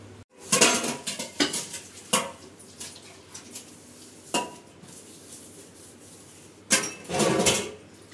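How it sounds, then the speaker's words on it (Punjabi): Dishes being washed while cleaning a home kitchen, with bursts of clattering pots, pans and cutlery close by. The loudest bursts come near the start and the end, with quieter knocks in between and a low steady hum underneath. "ਮੈਂ ਕਿਹਾ ਚਲੋ ਹੁਣ ਭਾਂਡੇ ਸਾਫ਼ ਕਰ ਲਈਏ ਅਤੇ ਰਸੋਈ ਦੀ ਸਫਾਈ ਕਰ ਲਈਏ"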